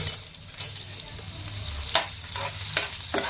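Vegetables frying and sizzling in oil for veg momos, with a steady crackle, stirring scrapes and occasional sharp clinks of a utensil against the pan, close up and alone.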